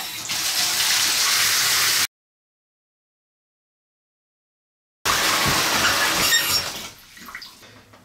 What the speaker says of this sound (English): we're going to go ahead and fill this thing up with water